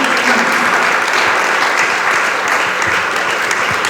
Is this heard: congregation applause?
yes